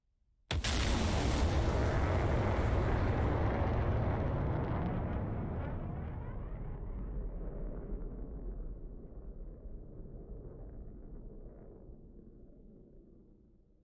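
A missile strikes and destroys a Tu-22M bomber in DCS World, opening with a sudden loud blast that rolls into a long, thundering rumble and fades gradually over many seconds with no voices.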